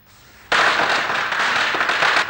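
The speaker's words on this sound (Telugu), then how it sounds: "దీపావళి కాదు కానీ క్రాకర్స్ పేలుతుంది." Firecrackers set off by children in a residential colony burst suddenly into a loud, dense crackling barrage that rattles on without pause, close by and unaccompanied by voices.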